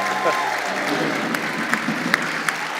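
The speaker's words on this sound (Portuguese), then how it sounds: "uma salva de palmas" A crowd applauds a guest during a Brazilian talk show, steady dense clapping throughout with a few sharper individual claps standing out and faint voices mixed underneath.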